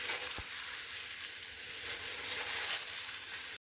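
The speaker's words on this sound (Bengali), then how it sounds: "কড়াইতে সর্ষের তেল ভালো করে গরম করে তাতে নুন হলুদ মাখানো বেগুনগুলো" Brinjal pieces coated with salt and turmeric fry in hot mustard oil in a kadai, giving a steady, bright sizzle close by with one brief knock early on.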